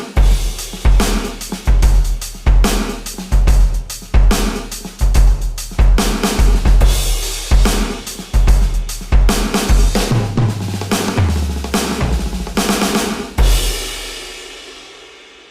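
A Yamaha DTX6 electronic drum kit plays a loud, steady groove of kicks, snares and cymbals dressed with ambience, compression and effects, with a washy cymbal tail at the end.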